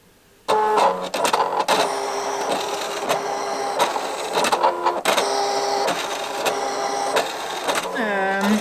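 A Silhouette Portrait cutting machine cuts around a design with a buzzing motor hum broken into repeated stop-start bursts, close up, ending with a rising whine.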